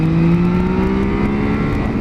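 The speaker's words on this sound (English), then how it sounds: "Listen to that engine roar." A Yamaha Tracer motorcycle accelerates on a road in A mode, its engine roaring loudly with a rising droning pitch held throughout, close up, with no talking.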